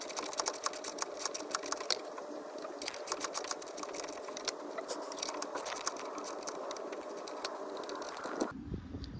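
Rapid metallic ratcheting runs continuously near the front bumper of a 2020 Kia Stinger as a 10 mm bolt is fastened down, with dense clicking throughout that stops abruptly near the end.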